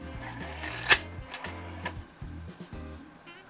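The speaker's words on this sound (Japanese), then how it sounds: "結構高速回転してる感じで MD 読み込めていない感じがします。" A Kenwood MDX-G3 MiniDisc drive spins fast while failing to read a disc. It makes a quiet, rhythmic mechanical whirring with repeated clicks and ticks, and no voices.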